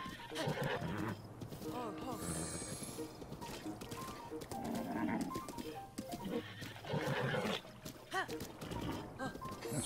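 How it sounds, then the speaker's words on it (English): A horse in the video game Breath of the Wild neighs and whinnies several times amid busy in-game sounds, fairly loud and close, with other game noise continuing throughout. "This horse is being very unruly."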